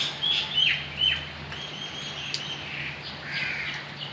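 Crows and other birds calling in a home courtyard, a few short caws and chirps at middle distance over a steady low background hum, with no talking.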